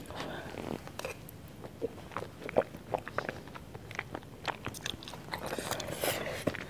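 Someone eats instant seblak close to the mic, with quiet irregular bites, crunches and wet chewing sounds running for several seconds.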